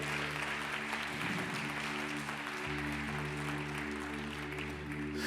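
Applause from a church congregation during a Spanish-language worship service, a steady broadband clapping wash lasting several seconds over a sustained low organ or keyboard drone.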